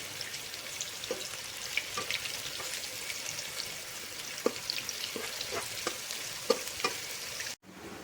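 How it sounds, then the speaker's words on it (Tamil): Raw plantain slices fry in hot oil with a steady, fairly quiet sizzle, broken by occasional sharp pops and stirring clicks. "வாழைக்காயை நல்லா ஃப்ரை பண்ணிக்கோங்க."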